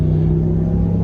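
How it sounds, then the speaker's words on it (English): A RAM 1500 Bighorn Rocky Ridge Edition truck with a 5.7 engine rumbles steadily through its exhaust, a loud, deep, even drone held close without a break. "geez, listen to the exhaust on it"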